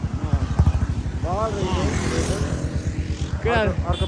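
A motorcycle ride around Pokhara, with a steady low engine drone running throughout and people's voices talking over it.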